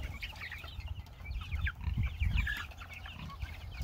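Meat chickens on pasture cluck and chatter in short, overlapping bursts, a busy flock sounding close with soft rustling underneath and no talk.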